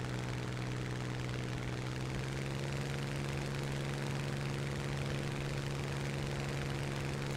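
Hurricane Mk II fighter engine in a flight video game drones continuously at a steady, even pitch, a constant propeller-aircraft hum heard alone and fairly quietly throughout.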